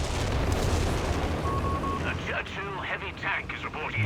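Walking Stuka rocket artillery fires during a large 4v4 tank battle in Company of Heroes 3, with a dense roar of rocket launches and blasts under steady commentary, joined by whooshing tones near the end.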